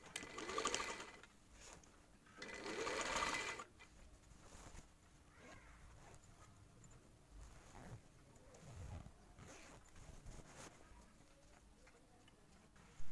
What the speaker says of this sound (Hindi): इन दोनों को बाहर की साइड पर रख के हम सिलाई लगा लेंगे